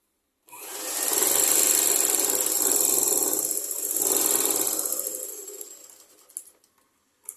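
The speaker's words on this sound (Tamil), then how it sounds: "ஜாயின் பண்ணுங்கள். தையல் போட்டுக்கோங்க." A sewing machine stitches the shoulder seam of a long top, running steadily and loudly for about five seconds before slowing and stopping, followed by a few faint clicks.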